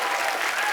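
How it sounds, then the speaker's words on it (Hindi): Studio audience applause on a TV comedy talk show stage, a dense continuous wash of clapping that stays loud and steady throughout the short burst. "तालियां और तेज हो जाएगा"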